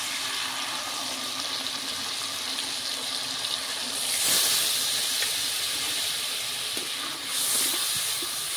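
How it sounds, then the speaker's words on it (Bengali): Ground mustard spice paste with a little turmeric and salt sizzles in hot oil for shorshe ilish, a steady close hiss that swells louder twice, with no talking. "বেটে রাখা মশলা দিয়ে দেব।"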